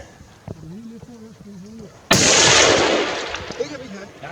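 A Tikka T3 CTR .308 rifle fires one loud, sharp shot at a 15x15 cm steel plate outdoors, with a blast that decays over about a second, after someone speaks calmly.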